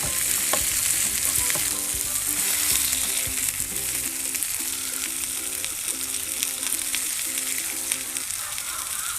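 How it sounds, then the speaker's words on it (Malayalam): Browned onions and tomatoes frying in a pan as a gravy base, a loud continuous sizzle broken by repeated scraping strokes of a spoon stirring them, close up and without talk. "ആ സമയത്തേക്ക് നമ്മൾ തക്കാളി കൂടി ആഡ് ചെയ്ത് കൊടുക്കണം. എന്നിട്ട് ഇതെല്ലാം കൂടി നന്നായിട്ട് മൊരിയണം."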